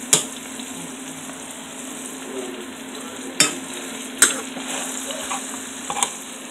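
Half of an eight-pound cut of meat fries in hot grease in a pan, a steady sizzle running throughout with a few sharp pops and clicks at intervals, and no talking.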